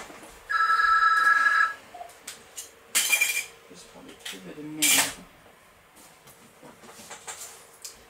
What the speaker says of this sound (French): Hop, petit coup de téléphone.